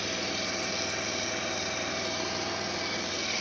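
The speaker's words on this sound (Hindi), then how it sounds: "बोले तो बाइक स्टार्ट हो गई है और इसका काम हो चुका है कंप्लीट" A Bajaj Pulsar 150 motorcycle engine runs after a timing chain replacement, a steady, continuous idle hum with a fine rapid pulse, close and even throughout with no talk.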